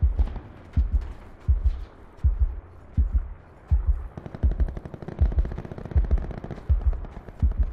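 Repeated gunshots boom at a steady pace in Call of Duty: Black Ops 4 Blackout, each shot a heavy low thump, with a faster rattling burst partway through. The shots are loud and close, with no voices over them.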